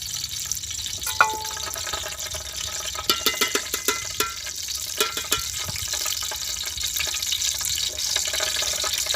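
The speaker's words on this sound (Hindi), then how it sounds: "ये देखिए मैं घी डाल रही हूँ।" Ghee poured onto grated carrots in a pan for village-style gajar ka halwa gives a soft, close liquid trickle and faint sizzle, with a cluster of small splashy ticks in the middle.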